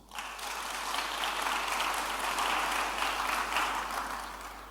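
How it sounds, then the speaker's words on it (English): A formal gathering breaks into a round of applause, a dense wash of many hands clapping that swells quickly, holds steady, then begins to fade. "A round of applause."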